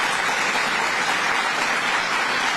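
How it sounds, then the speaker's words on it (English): An audience at a public announcement by New York's governor breaks into applause, a thick, even roar of many hands clapping close and loud throughout, with no talk over it. "Let's give him another round of applause."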